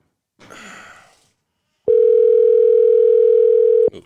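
A telephone dial tone plays as a call is placed, one steady unbroken tone holding clear and loud for about two seconds after a brief muffled rustle.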